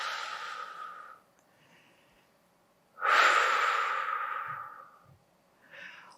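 Forceful exhalations during a Pilates exercise, a long airy breath out that fades, a pause, then a stronger audible blow out and a softer short breath at the end.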